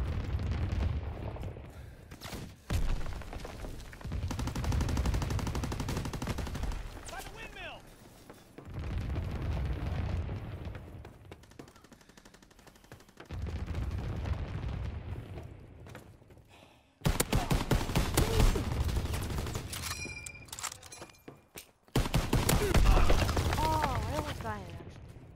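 An anti-aircraft battery in a WWII video game fires heavy booming bursts and explosions in repeated loud blocks separated by short pauses, with game voices talking at times.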